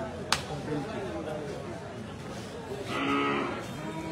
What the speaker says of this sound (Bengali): মুন্সিবাজার আজকে একটি হাট বসেছে এবং অনেক যথেষ্ট গরু আছে